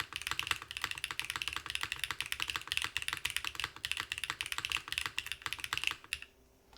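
Steady, fast typing on a Han's Keyboard Neo802 mechanical keyboard fitted with a wrist rest, a dense run of crisp close-up keystrokes with no talking, stopping abruptly near the end.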